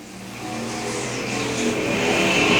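USRA modified and stock race cars roar around a dirt oval, engines swelling louder as a car approaches and passes close by, a dense, continuous motor noise.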